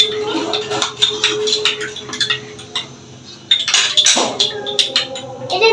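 A spoon clinks and scrapes against a bowl while two spoonfuls of cornflour are stirred into liquid for homemade tomato sauce, with repeated light metallic taps and brief louder stirring bursts close by.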